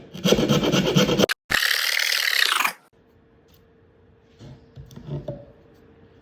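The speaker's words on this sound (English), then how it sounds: "we're just going to take the rasp, go in here and try to clean it up" A rasp files along the wooden mold for a Yukon racing kayak, loud rhythmic coarse strokes in two bursts over the first three seconds, then quiet with faint scraping and handling noises.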